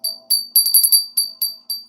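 A bright metal bell rings in quick, irregular strikes, about eight sharp clear dings with short decays, close and loud with no voices.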